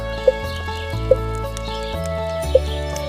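Chickens in the video game Stardew Valley cluck in three short, evenly spaced bursts over a steady looping game music background.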